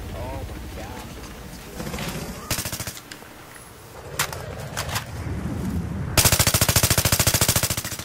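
Sniper rifle gunfire in Battlefield 3, several sharp shots rising through the clip and ending in a loud rapid burst near the end, with game ambience and a voice talking over it.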